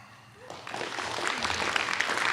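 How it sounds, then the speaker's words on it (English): An audience at an evening community gathering breaks into applause after a speaker, the clapping swelling from quiet to full, steady and roomy, with a brief voice underneath at the start. "You got to keep clapping until they get to the mic"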